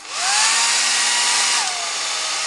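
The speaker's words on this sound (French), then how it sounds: "je vais vous le faire au sèche-cheveux" A hair dryer blows over crackle paint with a loud, steady whooshing roar, its motor pitch shifting slightly partway through.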